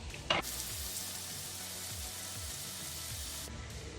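Vegan butter melting in a hot pot, sizzling and crackling steadily at low volume after a brief clunk at the start, with no voices.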